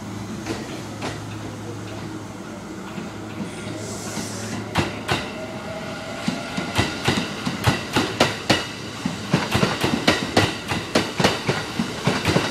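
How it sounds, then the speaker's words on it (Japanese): A Kintetsu train pulls slowly out of Yamato-Saidaiji station, its wheels clacking over rail joints in sharp beats that start sparse and quicken steadily into a regular rhythm over a low rumble. "ゆっくりゆっくり出発していきます。"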